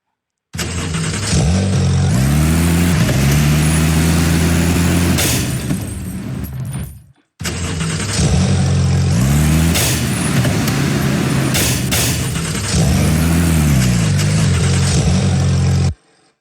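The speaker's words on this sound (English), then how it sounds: "I think I forgot to turn off the engine" A car engine runs continuously and loud, with repeated rises and falls of revving in two long stretches separated by a brief cut.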